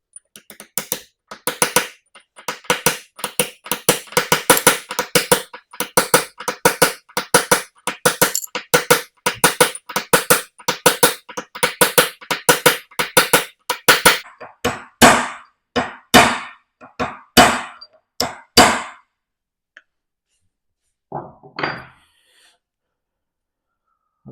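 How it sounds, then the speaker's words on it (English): A hammer taps a new RHP bearing home onto the first motion shaft of a Classic Mini gearbox, with the shaft rested on the back of a vise. Dozens of sharp metallic strikes come in rapid bursts, then slow to spaced blows before stopping. "line up the bearing, and then give it a good tap home"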